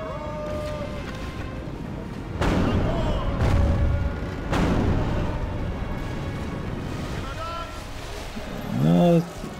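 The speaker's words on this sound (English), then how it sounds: "Not bad hits there from the catapult." Catapult impacts in the Total War: Third Age Reforged battle game, several deep booming thuds landing at irregular intervals over a rumbling battlefield bed, moderately loud, with someone speaking over them.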